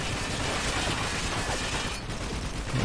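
Continuous gunfire and battle noise from a .50 cal machine gun turret in the war shooter Spec Ops: The Line, a dense, loud, unbroken rattle filling the whole stretch with no talk.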